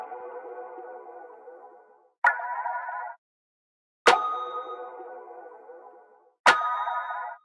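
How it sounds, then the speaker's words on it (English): Reverby electronic percussion hits sit over a snare in a dark pop beat, four sustained, ringing tonal bursts with sharp attacks, separated by short silences and each decaying under a washy reverb tail. "I also added these reverby percussion hits on top of the snare to make it more interesting."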